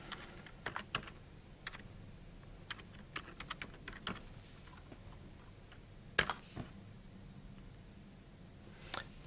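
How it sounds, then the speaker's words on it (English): Someone types on a computer keyboard, entering a name at a command line, with scattered soft key taps in short bursts and pauses, a couple of louder presses midway, close and quiet over faint room noise. "so you just type the name in there"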